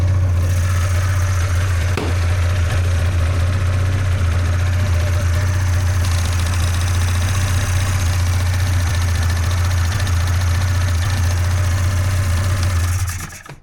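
An old snowmobile engine, just repaired after sitting broken for years, idles steadily up close with a constant low drone and slight knocking, then cuts off abruptly at the end.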